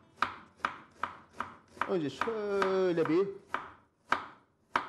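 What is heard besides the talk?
chopping vegetables with a knife on a board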